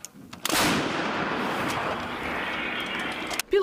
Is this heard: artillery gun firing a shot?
yes